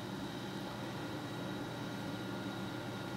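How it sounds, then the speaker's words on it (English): Two air purifiers run indoors with a steady, low, even whooshing drone, like a distant airplane, plus a faint constant whine above it and nothing else audible. "if you guys are hearing that airplane noise, that's... the air purifier over there"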